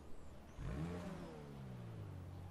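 A Ferrari 812 Superfast in GTA Online firing up: a quiet lead-in, then the engine catches sharply, revs up once and settles into a smooth idle, with no voices.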